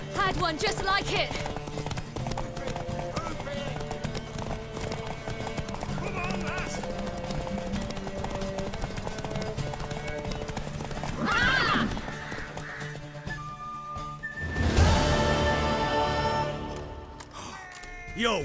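Horse hooves clip-clop and a horse neighs during a race in The Witcher 3: Wild Hunt, with a loud whinny near the end, under steady game music and spoken dialogue.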